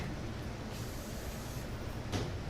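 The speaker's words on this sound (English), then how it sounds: "We'll take a little spray." A steady hiss of hairspray close by, lasting a couple of seconds with a brief stronger burst near the end.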